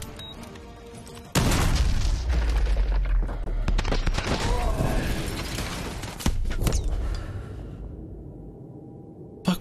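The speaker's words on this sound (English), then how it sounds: "I shot at the guy" Gunshots and booming blasts in Call of Duty: Modern Warfare 2 Remastered on an oil rig mission, a loud burst of fire bursting in after a quiet start, then continuing shots and a second sharp crack, with no talk.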